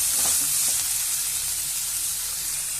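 Sambar ingredients with tomato frying in oil for a village-style nati chicken sambar, giving a steady close sizzle with a few stirring scrapes near the start and no voices.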